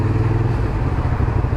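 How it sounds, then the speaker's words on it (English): A Suzuki SV650 motorcycle engine fitted with a Leo Vince exhaust and db-killer idles close by, giving a steady low rumble with a rapid throbbing pulse throughout and no talk. "I can hear the engine, I can hear what my engine sounds like"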